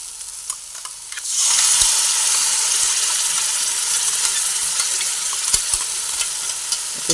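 Cashew paste sizzles loudly in hot oil for a Bengali badami jackfruit curry, a steady bright frying hiss swelling after a quieter first second, with scattered clinks and scrapes of a spoon stirring the pan.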